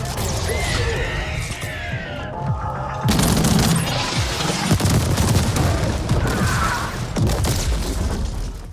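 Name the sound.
gunfire and explosions in video game The Ascent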